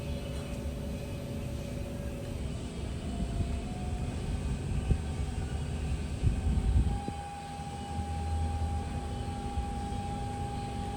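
The spindle of a SYIL V7 CNC vertical machining center with Siemens control runs at 1,000 RPM, a steady low mechanical hum with faint tonal whines that slowly rise, continuous and moderately close without talk.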